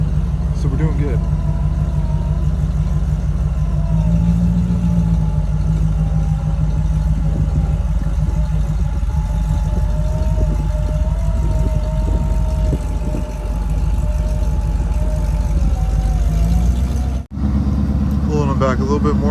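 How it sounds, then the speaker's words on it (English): A winch hauls a Jeep YJ that fell through ice out of the frozen water on a snowy day, with vehicle engines idling in a steady, loud, continuous drone and voices talking over it. "got the winch going backwards"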